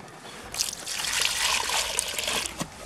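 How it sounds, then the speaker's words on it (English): Water poured into a hole in a heap of dry cement mix on an allotment, ready for mixing a greenhouse base: a steady close trickling splash lasting a couple of seconds, with no talk over it. "Put some water in there, look."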